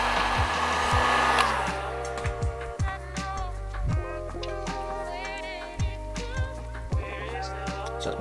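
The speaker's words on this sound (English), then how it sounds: "Heat shrink over the top. Bit of heat with the heat gun." A heat gun blows continuously while shrinking heat shrink tubing over motorcycle wiring on a Yamaha XJR1300, a steady whooshing drone with light clicks and taps of handling alongside.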